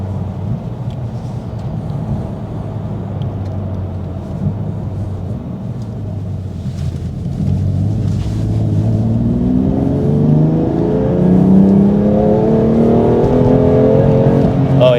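A BMW M2 Competition with the S55 engine on a morning drive, its exhaust droning steadily from inside the car before the engine revs up and climbs through the gears, growing louder toward the end.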